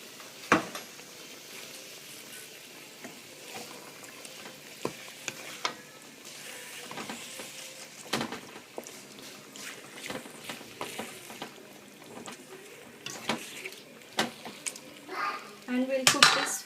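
Prawn ghassi curry simmering and sizzling in a pan while being stirred, with soft scraping and sharp clinks of a utensil against the metal at irregular intervals, close by.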